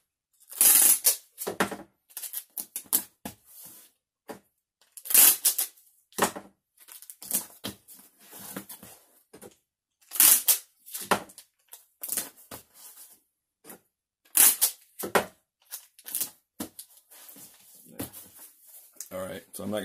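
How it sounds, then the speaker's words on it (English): Short strips of packing tape are pulled and pressed onto the corners of a cardboard shipping box, giving a run of sharp tearing and crinkling bursts in an uneven rhythm, close and fairly loud, with a voice talking between them. "I like to put little 2-inch pieces of tape on these corners too"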